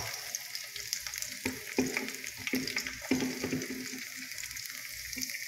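Garlic sizzles in a hot pan as the base for pork adobo, a continuous close frying crackle with scraping stir strokes and light clatter throughout.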